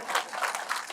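Audience applause at a political speech in Jodhpur, Rajasthan, a steady, moderately loud patter of many hands clapping throughout with no voices over it.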